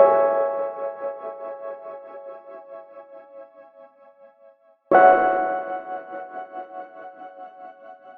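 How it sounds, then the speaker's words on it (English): A pretty synthesized keys patch from Logic's Alchemy Antarctic Sun preset, two sustained chords each struck and left to ring with a shimmering, pulsing tremolo as they slowly fade, heard alone. "So I ended up using Alchemy to create this really pretty keys sound."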